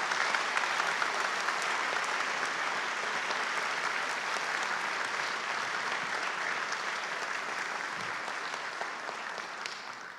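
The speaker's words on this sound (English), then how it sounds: "Let's give Michael another round of applause." An audience at a Rhodes Scholarship event gives a long, steady round of applause, dense and sustained, tapering slightly toward the end with no talk over it.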